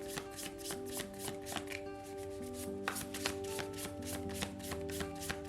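Tarot cards are shuffled by hand in a steady run of quick, crisp riffling slaps and flutters, close and continuous, with a constant tonal hum of background music underneath.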